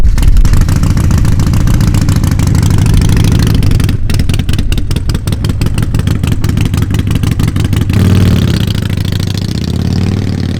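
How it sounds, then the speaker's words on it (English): A Harley-Davidson Pan America motorcycle's engine and exhaust rev loudly and up close, a steady buzzing drone with rapid pulsing bursts as the throttle is worked, easing back toward idle near the end. "this exhaust, honestly, I know people joke about it, but it does just sound like a hairdryer"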